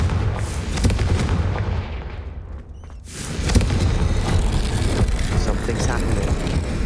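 Confringo fire spell explosion in the Hogwarts Legacy video game, a loud booming blast that briefly drops off then swells back into a dense, roaring rumble of game sound with a voice present.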